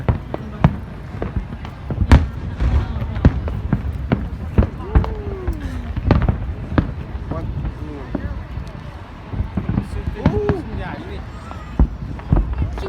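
A fireworks fountain lit for a Fourth of July celebration crackles and pops in sharp, irregular bursts over a continuous fizzing hiss, close by, with people talking throughout.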